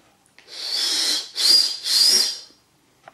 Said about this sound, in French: Ça siffle un peu.